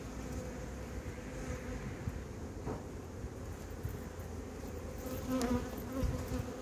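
Honeybees hum around hives at an apiary during spring comb-foundation work, a steady faint droning buzz with occasional louder passes near the microphone and light wind noise.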